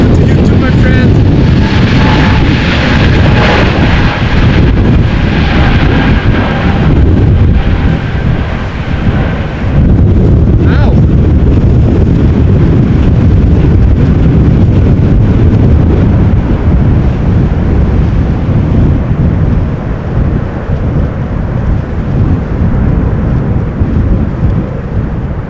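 A KLM Embraer 190 on approach in storm winds at Amsterdam Schiphol, its engine roar blending into loud continuous wind buffeting on the microphone, with a voice talking under the noise.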